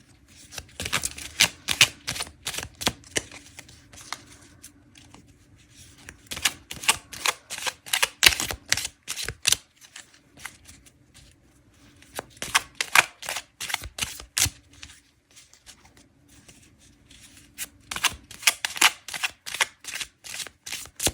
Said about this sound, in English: when I'm shuffling cards that I customize with a black Sharpie